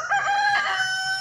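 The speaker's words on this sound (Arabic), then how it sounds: "تسمع الفرارج تيغوتو" Chickens in a rural farmyard in the Safi countryside crow and cluck together, a rooster's crow ringing out clearly over scattered hen clucks, close and fairly loud.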